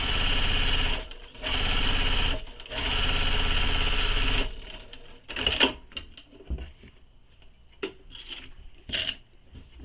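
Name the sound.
sewing machine stitching a handbag seam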